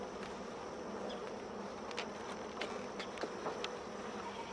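Honeybees buzzing during a hive inspection two months after installation: a continuous close, dense swarm drone with individual bees zipping past the listener, and no talk.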